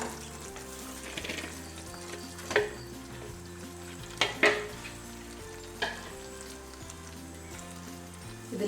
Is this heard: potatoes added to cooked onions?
yes